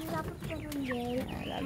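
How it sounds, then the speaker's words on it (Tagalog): Backyard chickens in a rural Philippine province cluck and call close by, several short squawks and warbling notes overlapping in a busy farmyard. "Tapos may alaga kaming manok."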